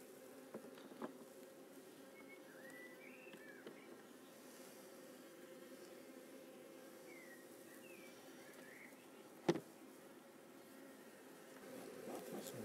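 Honey bees hum around an open hive during an inspection, a faint, steady drone with a few buzzing bees passing close and one brief sharp knock.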